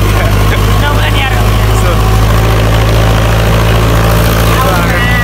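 A tractor engine runs steadily nearby, a loud constant droning rumble with a low hum that holds throughout, with faint voices in the background.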